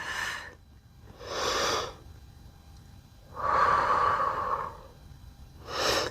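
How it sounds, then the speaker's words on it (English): Deep, slow breathing during a stretching and mobility exercise, four long audible breaths through the nose and mouth, close and fairly loud with quiet pauses between them. "A few rounds of breath here."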